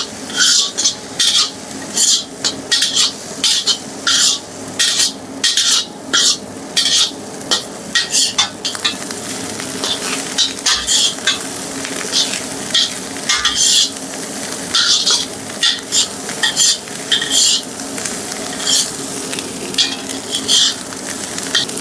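Street-style egg fried rice being stir-fried on a high flame with soy sauce and vinegar, loud sizzling under rapid, rhythmic clanks and scrapes of a spatula against the pan, close up and continuous.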